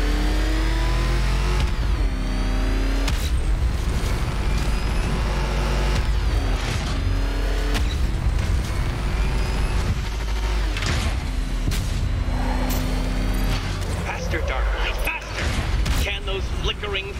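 Batmobile engine in Batman: Arkham Knight with the afterburner engaged, a loud sustained revving roar with repeated surges and mechanical clunks, with talk layered over it throughout.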